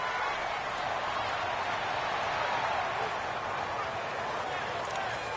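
In a PS4 American football game, a stadium crowd roars in a loud, steady wash of cheering with a voice faintly underneath.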